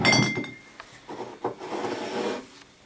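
Glass Tymbark drink bottles clink and rub against each other up close, with a few light chinks and scraping rasps over a quiet background.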